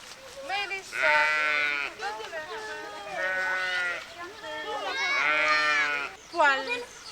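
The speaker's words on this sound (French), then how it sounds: "qu'est-ce qu'on entend? Les moutons." Sheep bleat on a farm during a children's school outing. Several loud, wavering bleats come in close succession and overlap, with a quieter murmur of children and outdoor noise in the background.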